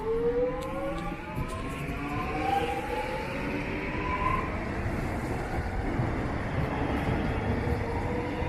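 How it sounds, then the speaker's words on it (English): A train pulling out of a suburban station at Blackburn, Victoria, with a steady rumble of wheels and motor. Drawn-out rising and falling whine tones ride over the broad noise at a constant level. "The train is ready to depart."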